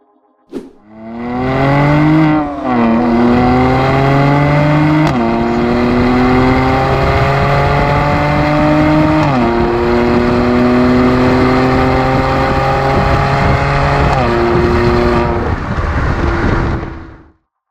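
A 2019 Mercedes-Benz C43 AMG engine revs hard in manual mode and climbs through several gear shifts, each upshift dropping the pitch before it rises again, loud and close.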